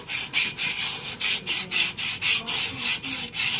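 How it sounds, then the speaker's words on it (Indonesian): Rhythmic back-and-forth scraping of sandpaper on a Daihatsu Zebra Espass brake drum, about a dozen steady strokes, close and fairly loud with no talking. "ini ada amplas seperti ini kita bisa amplas"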